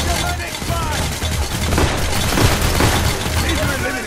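Gunfire crackles in Payday The Heist as rapid bursts of shots and booms overlap into a dense, loud fusillade that runs continuously without pause.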